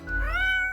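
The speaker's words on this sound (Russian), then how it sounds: "Кошка рассеянно мяукает." A cat in the Death and Taxes video game gives a single clear meow with a rising then falling pitch, close and alone, lasting under a second.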